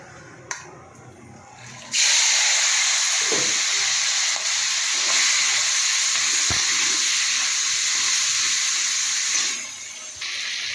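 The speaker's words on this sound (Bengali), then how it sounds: "চিংড়িটা ভাজা হয়ে গেছে বন্ধুরা" Shrimp sizzle loudly in hot oil in a pan, a steady bright frying hiss that starts abruptly and runs on for several seconds before dying down, with a few soft clinks of stirring.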